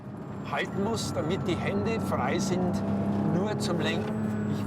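A Porsche 911 GT3 engine hums steadily inside the cabin, with a voice talking over the constant low drone.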